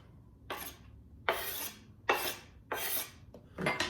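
Knife scraping chopped garlic from a cutting board into a bowl: five short, close rasping strokes spaced about a second apart, crisp and fairly quiet, with no voices.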